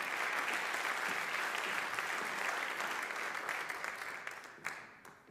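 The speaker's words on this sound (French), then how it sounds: "On applaudit, s'il vous plaît." An audience applauds at an award ceremony for the Trophée Haeberlin, a full, continuous round of clapping from many people that holds steady and then thins out toward the end into a few last scattered claps.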